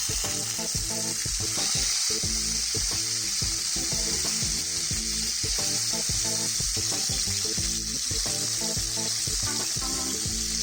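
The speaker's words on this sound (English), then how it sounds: "Once the fish is fried at the bottom side for 30 seconds, we carefully flip this over." Rohu fish frying in a pan for a Bengali yogurt fish curry, a loud, steady oil sizzle that fills the whole stretch, with dense crackling and spattering throughout and no talking.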